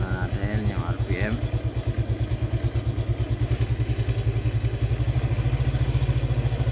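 A Honda Click 125 scooter engine runs after a remap with a fast, steady thumping pulse that holds through the whole stretch, near and loud. A voice speaks briefly over the engine at the start.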